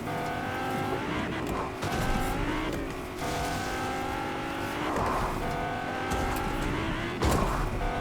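A car driving in Fortnite: a steady engine drone with shifting revs and repeated surges, close and prominent, with brief bumps and tire noises breaking the hum a few times.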